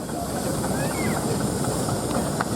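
A miniature coal-fired steam engine at an outdoor steam rally hisses steadily as it vents steam, a continuous broadband hiss with faint whistling tones and people talking nearby.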